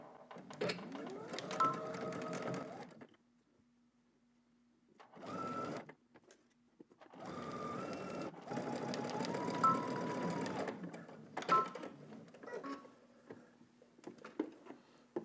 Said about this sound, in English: now let's head up to the machine. We're going to stitch down our shoulders using 5/8 of an inch seam allowance